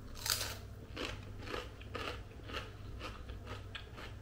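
Crunchy bites and chewing of a crispy, slightly burnt courgette and gruyère wrap, close and repeated every half second or so, with a low hum underneath and no talk.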